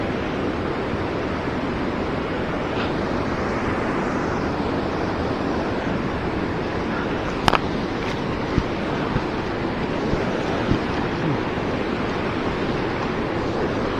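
Rushing river rapids on the Fox River churn in a steady, loud wash while someone wades in to fish for smallmouth bass, with a few small splashes and knocks near the end.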